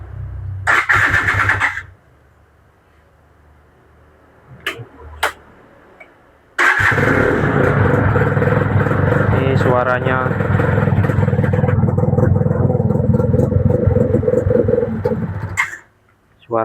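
A Yamaha two-stroke motorcycle (F1ZR or Jupiter Z) with a coarse exhaust note is started with a brief starter whirr, then idles loudly and steadily close by, with someone talking at the start before the engine catches.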